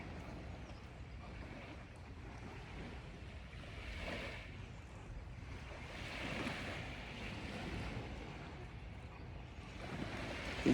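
Ocean waves breaking and washing ashore in a soft, continuous roar with gentle surges, faint and somewhat distant, with wind buffeting the microphone.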